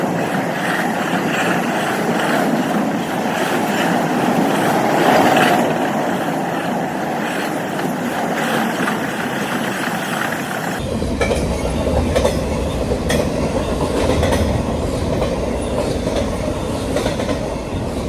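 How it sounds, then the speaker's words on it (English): Long freight train rolling through a station, a steady loud rumble of wheels and cars with clattering rail noise throughout, no voices. "This freight train took over 3 minutes to pass through the station."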